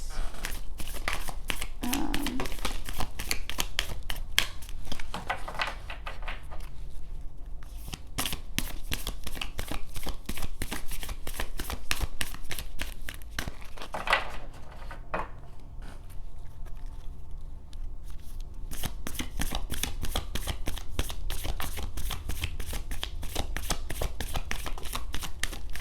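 Moonology oracle cards shuffled steadily for a long stretch, a dense run of quick papery riffles and slides close up, with brief pauses and no talking.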